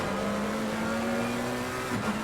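McLaren GT race cars in Assetto Corsa Competizione at Silverstone hold a steady, droning engine note at high revs, one continuous close tone with a slight pitch dip near the end.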